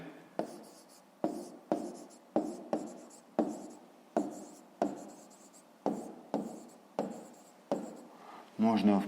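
Pen or pencil writing numbers by hand on paper for a fifth-grade math exercise, about a dozen short scratching strokes in a steady rhythm with brief pauses between, close and clear, and a voice begins at the very end.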